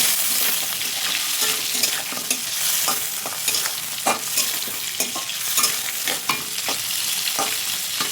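Shrimp, rubbed with salt and turmeric, frying lightly in hot oil for a Bengali malai curry: a continuous sizzle broken by repeated scraping stirs.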